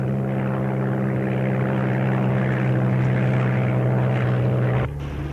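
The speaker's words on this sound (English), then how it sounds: "amerikanisches Luftzeug" An American propeller aircraft drones overhead in a war film, a steady loud engine hum that holds throughout and then drops away abruptly near the end, with no talk.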